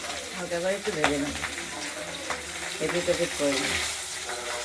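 Pabda fish fry in oil in a kadai, a continuous bright sizzle with a few sharp spits, while a person talks over the cooking noise.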